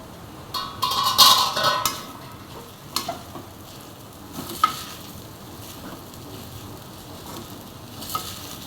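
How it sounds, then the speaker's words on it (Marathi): Ajwain seeds tempering in hot oil sizzle in a short burst early on, followed by light stirring and scattered utensil taps as the crackle fades to a quiet hiss; no talking. "त्याच्यासाठी मी ओव्याची फोडणी देत असते"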